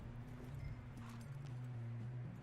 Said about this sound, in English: And we're getting on the horse.